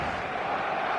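A packed stadium crowd of football fans in eFootball gives off a dense, steady roar that carries loud and unbroken for a brief moment.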